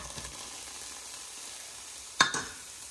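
Green pepper and chopped onion sizzle quietly in a skillet over medium-high heat, a low steady hiss with one sharp clatter of the vegetables hitting the pan near the end and no talking.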